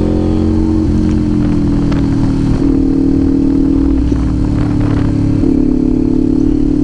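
A Kawasaki Ninja 500 with an SC Project open-pipe exhaust idles loudly and close by. Four short throttle blips punch through the rumble at intervals, each a quick rise and fall in revs.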